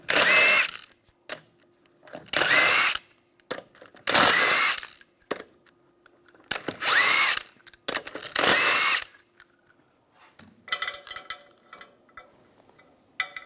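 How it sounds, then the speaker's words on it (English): Power tool with a 21mm socket removing lug nuts from a 2004-2009 Toyota Prius front wheel, five loud, close bursts of whirring and rattling separated by short pauses, followed by softer clinking. "Take the wheel off using a 21mm socket."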